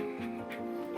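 A Cairn Terrier gives a short, close, tonal bark-like vocal that is drawn out and slightly whining, lasting about a second in a quiet indoor space.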